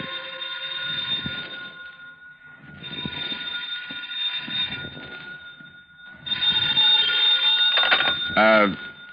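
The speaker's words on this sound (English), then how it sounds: "Then the phone rang." An old-fashioned telephone rings in repeated long bursts separated by pauses, bright and insistent, with the final ring louder and closer, set within a vintage radio drama.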